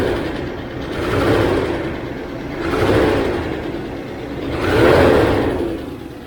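The 1993 Range Rover LSE V8 engine has noisy, rattly tappets. It runs nearby and revs up three times in slow, even swells over a steady idle.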